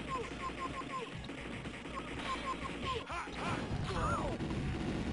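Gunfire and crashing effects from The Punisher 1993 arcade game crackle in rapid bursts amid busy game sounds and chirping tones, with a heavier burst of impacts midway.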